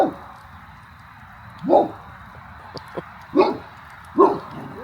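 A dog gives four short, separate barks or yips, spaced over a few seconds at moderate distance, against a faint steady background hum.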